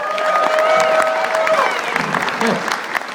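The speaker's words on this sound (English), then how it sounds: "Give Mary Faye a round of applause." A church mission audience in Toronto claps for a young girl named Mary Faye, a dense burst of applause that stays loud throughout with a few cheers, then thins slightly toward the end.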